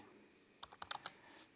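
A quick burst of a few computer keyboard keystrokes, faint and close, over a quiet room hum.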